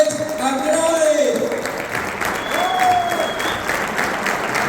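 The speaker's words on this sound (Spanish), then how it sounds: "quiero que lo reciban con un fuerte aplauso" Loud, continuous applause from an audience welcoming two speakers to the stage at a 2022 presentation in Venezuela, sustained throughout, with brief voices or calls rising above the clapping.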